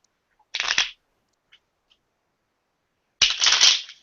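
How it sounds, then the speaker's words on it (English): A deck of cards is shuffled twice, two quick close riffles, each a short burst of rapid fluttering clicks, separated by near silence with a couple of faint taps. "I'm gonna shuffle these two, and then I'm gonna ask you when to stop."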